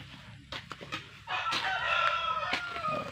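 Chickens cluck and a rooster crows loudly nearby, a few short calls followed by a long drawn-out crow.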